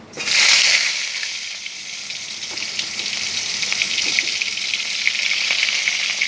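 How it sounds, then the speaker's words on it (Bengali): Pointed gourds dropped into hot oil in a wok burst into a loud, sudden hiss that peaks at once and then settles into a strong, continuous sizzle with small crackles, close up and without talk. "কড়াইয়ে তেল দিয়ে দিয়েছি, এখন দিয়ে দিচ্ছি পটলগুলো।"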